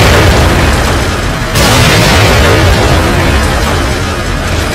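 Grenade blast in a chaotic shooter video game, a loud booming explosion with dense, sustained roar and a sharp renewed burst about a third of the way in, filling the whole stretch with no voices.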